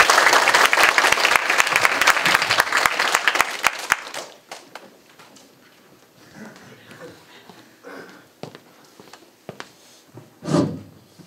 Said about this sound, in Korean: 김택환 교수님께 큰 박수 부탁드립니다.